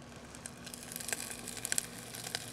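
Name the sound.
onions stir-frying in a pan with chili powder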